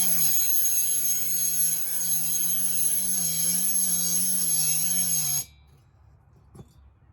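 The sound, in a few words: rotary burr bit porting a 288xp chainsaw cylinder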